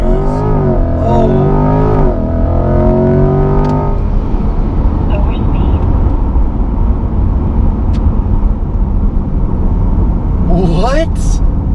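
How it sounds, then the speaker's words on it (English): A 2020 C8 Corvette mid-engine car launches hard under launch control, its engine note sweeping upward through rising revs in a loud, close roar, dropping into a steady full-throttle rush, with a brief upshift sweep near the end. "First time doing a launch control, I think I've got everything. Mash the brake, full to the floor throttle."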